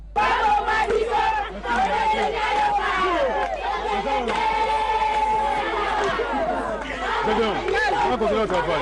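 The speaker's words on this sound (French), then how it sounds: "une foule en liesse ne se lasse pas de scander des chansons à la gloire de la fille de Bumbu" A jubilant crowd in Bumbu chants and sings in celebration, many voices shouting and chanting together in a dense, loud, continuous roar with overlapping cries.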